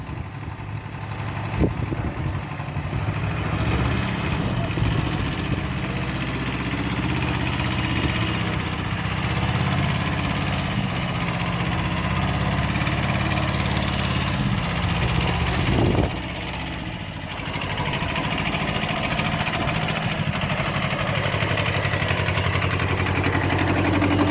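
A tractor engine idles steadily on a farm, a continuous low mechanical rumble that runs close and loud for the whole stretch, dipping briefly once before settling back to the same drone.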